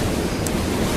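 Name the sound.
rush of water waves in audio drama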